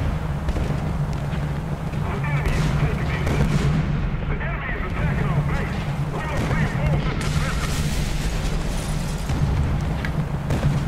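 Heavy booming artillery fire in War Thunder rumbles continuously under a player's talk, with repeated deep blasts and a dense low roar throughout.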